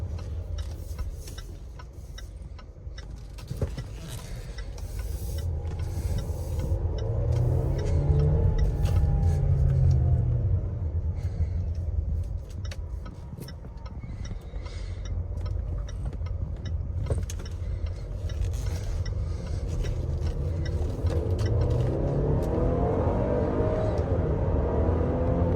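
A 2020 Land Rover Evoque SE R-Dynamic heard from the cabin while driving, a low engine drone that rises and falls with acceleration, mixed with intermittent ticking and light rattles, with no talk.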